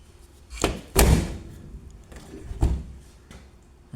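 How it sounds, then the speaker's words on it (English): A Chrysler Valiant AP6 door under rust repair is swung shut, giving two solid thuds about a second and a half apart, the first louder, with a lighter knock between and quiet workshop room noise around them. "I just want to make sure that the door shuts"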